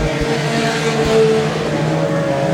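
Junior sedan race cars lap a speedway circuit, their engines droning steadily and loud throughout, a continuous layered motor hum with no voices.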